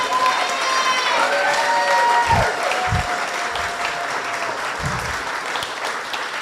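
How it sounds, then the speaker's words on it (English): Sustained clapping from a crowd, with a few low thumps and a tonal sound fading in the background. "And let's give a big applause to John Jr."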